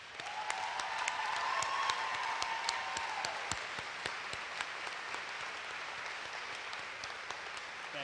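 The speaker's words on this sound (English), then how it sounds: "Now let's give them another round of applause." Applause fills a commencement ceremony hall, many hands clapping in a dense, steady wash that swells early, then settles to a sustained level. A brief tonal whistle or cheer rises above it in the first few seconds.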